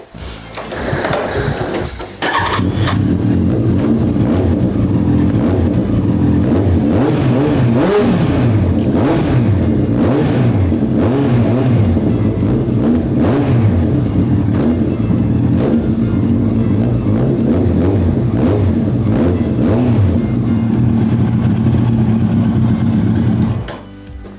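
A Yamaha R1 sport motorcycle engine starts with a short burst, then idles and revs loudly and close by, the throttle rising and falling for about twenty seconds.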